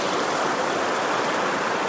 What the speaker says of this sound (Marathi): पाणी बघा कसा मोऱ्यांमधून पडतं बघा.